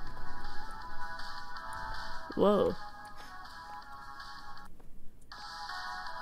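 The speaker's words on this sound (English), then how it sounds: "Oh, it's a phone." A phone rings briefly inside the horror game The Closing Shift, a short tonal trill over steady background music and ambience, while a player exclaims in surprise.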